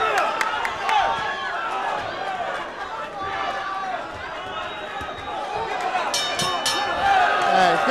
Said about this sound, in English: And you can hear the crowd.